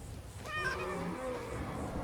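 A cat meows once with a drawn-out, rising and falling cry, fairly close, over a low background hum.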